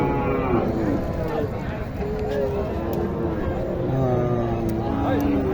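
Cattle lowing at a busy cattle market in Naogaon, several drawn-out moos rising over a constant crowd murmur, with people talking throughout.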